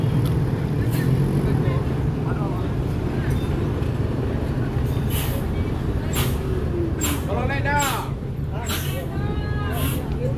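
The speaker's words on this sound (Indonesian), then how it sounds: "kita lihat ini Sultan Plus kali sekarang yang bakal melewati tikungan ini" A large Sultan Plus bus works through a tight corner, its engine a steady low rumble close by, under continuous crowd chatter and scattered sharp chirps.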